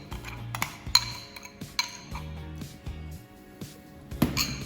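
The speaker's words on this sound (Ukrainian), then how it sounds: "Додаємо також дрібку солі, все ретельно розмішуємо і додаємо до сиру" Spoon clinking and scraping against a bowl while a cottage cheese mixture with a pinch of salt is stirred for syrniki, with irregular close taps and knocks and no talk.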